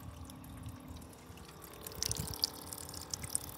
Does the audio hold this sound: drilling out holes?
no